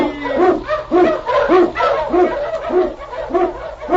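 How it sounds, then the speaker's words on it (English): Eskimo husky sled dogs bark and yelp in a rapid, steady rhythm, a pack of several voices close by with a low hum underneath, no talking over them. "On you huskies!"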